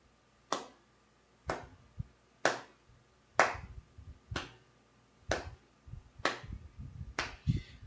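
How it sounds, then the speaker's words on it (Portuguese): Eight sharp hand claps spaced at an even, steady pulse about one second apart, marking a rhythm, close and clear with quiet gaps and faint background noise between them. "Primeira opção é marcando o ritmo com palmas."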